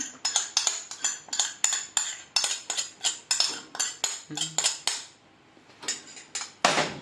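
Spoons clink against a metal pot in quick, regular, close strikes while ghee is spooned in for rice, then a short lull and a final louder clatter.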